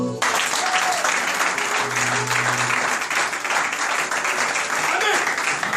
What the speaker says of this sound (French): Aidez-moi à acclamer.